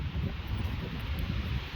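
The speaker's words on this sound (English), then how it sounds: "It's very, very windy." Strong wind during a windstorm on an outdoor trail, a steady loud low roar and buffeting against the microphone with no break, alone without talk.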